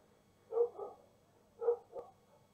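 A dog barks in two short double bursts, about a second apart, moderately loud and fairly close in a quiet setting.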